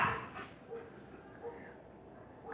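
A dog whimpers and lets out a few short yips and barks at close range, with faint human sounds in the background.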